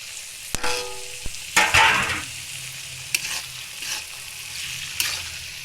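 Tomatoes tipped into a pan of bubbling pav bhaji, with sharp clanks of a spoon against the pan, then a loud burst of sizzling that settles into steady frying and occasional scrapes.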